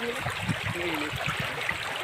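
Hot water pours from a tap in a steady, continuous rush with a faint gurgle, with no voices over it.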